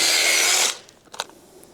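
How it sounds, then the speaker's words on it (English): A power drill bores into a wooden gate post, a loud high whirring grind for most of a second that cuts off abruptly, followed by faint tapping and scraping of wood debris. "drill this out"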